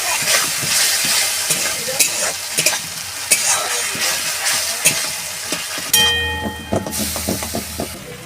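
Ground spice paste sizzling in oil in a pan for a Bengali mrigal fish curry, a steady loud fry with sharp stirring scrapes throughout and a brief burst of harsher hiss near the end; no talking.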